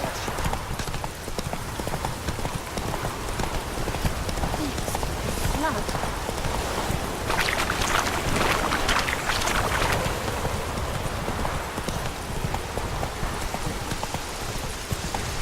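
Roach, the horse in The Witcher 3: Wild Hunt, gallops in a fast continuous clip-clop of hooves, close and steady, with a voice speaking over the hoofbeats.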